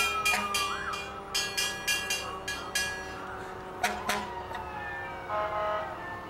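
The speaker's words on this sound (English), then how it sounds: "Each engine has its own distinct noise." Fire engine sirens wail at a Christmas parade in Wells, Maine, rising and falling tones mixed with repeated short horn blasts, moderately distant, with faint crowd and street noise beneath.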